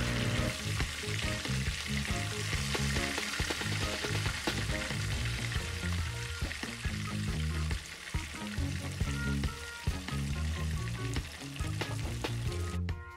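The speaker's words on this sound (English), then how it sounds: "try not to fry the fish too dry" Fish frying in oil in a pot, giving a dense, continuous crackling sizzle that stays loud and close with scattered sharper pops throughout.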